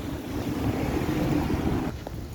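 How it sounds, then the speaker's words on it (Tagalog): Strong waves churn near the shore at Fisherman's Wharf in Tamsui, a steady loud wash of surf blended with gusting wind noise on the microphone that drops off abruptly near the end. "lakas ng alon lalakas ng alon parang may bagyo eh"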